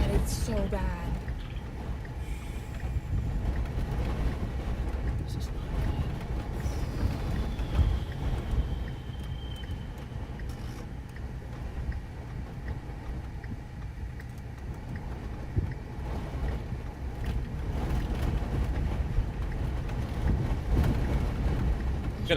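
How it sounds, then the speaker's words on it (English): Strong wind buffets the microphone during a tornado chase on the Great Plains, a steady low roar lasting throughout with occasional gusts, while people talk nearby. "It's getting windy."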